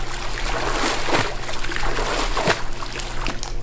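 Pool water sloshes and splatters steadily as a person jumps during a seniors' water exercise routine, with a couple of sharper splashes around the middle and end over constant churning.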